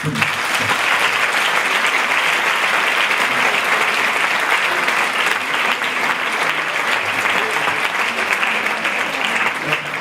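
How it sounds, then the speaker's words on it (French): Loud, sustained applause from a conference show audience, dense clapping that holds steady for the whole stretch with no pause. "Je peux l'applaudir très très fort."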